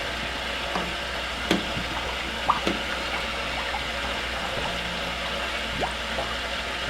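Water pouring steadily into a large reservoir, a continuous hissing rush with a few faint clicks and knocks over it, no talking.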